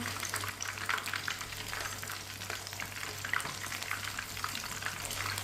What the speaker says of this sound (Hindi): तीन मिनट के लिए मैंने एक साइड से फ्राई कर लिया है